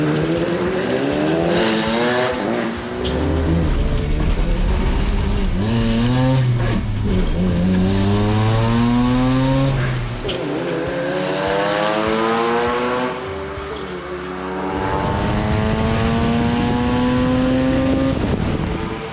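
A turbocharged Honda Civic launches and accelerates hard at a drag race, its engine note climbing repeatedly through gears with loud, close revving and brief drops between shifts.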